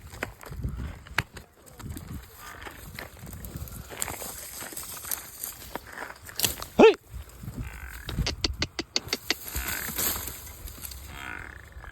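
Cows shuffling and moving nearby, with hoof-like thuds, snorting and rustling, a sharp knock partway through, and some quiet speech in the background.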